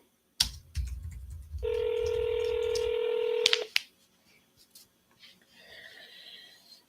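Telephone keypad tones while dialing a seller, a rapid string of beeps followed by a steady ringback-style tone lasting about two seconds, close and clear, with faint clicks and a quiet murmur afterward.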